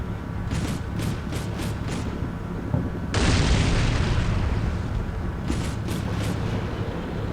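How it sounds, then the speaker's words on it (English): A building blown up in the Combat Mission Black Sea war game: a sudden loud blast that swells into a long, broad roaring rumble, with scattered faint impacts before and after. "at least we're blowing up that building over there where the guys that killed off my squad were at"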